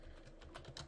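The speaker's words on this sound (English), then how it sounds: "and start typing." Keys tap rapidly on a computer keyboard, a short close burst of soft clicks typed quickly, quiet and alone.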